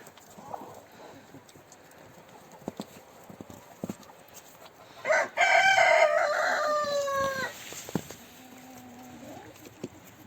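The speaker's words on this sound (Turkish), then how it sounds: "Şu da öbür horozum." A rooster crows loudly once, a long rising and falling call, amid faint background clucking and rustling, with a softer call trailing afterward.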